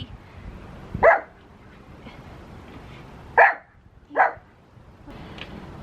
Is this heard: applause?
no